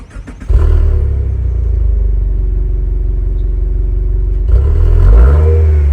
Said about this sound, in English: while we're at the exhaust, let's take a listen to how this sounds from the outside